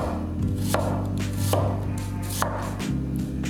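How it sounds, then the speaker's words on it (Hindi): A knife chops peeled onions on a board in a home kitchen for tomato soup, with close, crisp strokes repeating at a quick, steady rhythm and no talking. "ये छिले हुए प्याज है, मैं इनको सिंपल डीज में काट रहा हूँ और सारे प्याज को हम ऐसे काटेंगे।"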